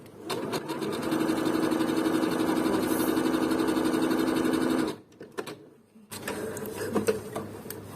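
A Bernette Sew and Go 8 sewing machine stitches a small zigzag with a close, steady whirring hum for several seconds. It stops abruptly, then runs again more softly after a short pause.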